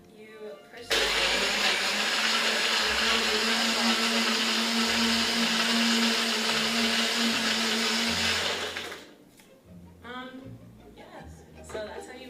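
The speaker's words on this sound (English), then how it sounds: "Simply, you plug in your blender" A blender roars loudly for about eight seconds at a steady high pitch, then cuts off, leaving brief talking and faint handling noises.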